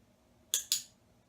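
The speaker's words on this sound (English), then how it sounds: "the way I taught Shaun to be conditioned to the clicker was to simply click and treat him" An animal-training clicker snaps twice in quick succession, two sharp, close, bright clicks about a fifth of a second apart over a quiet background, with no talking.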